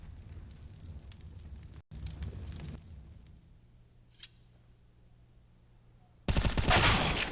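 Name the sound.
gunfire in Counter-Strike video game, Mirage map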